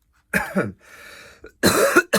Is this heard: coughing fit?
yes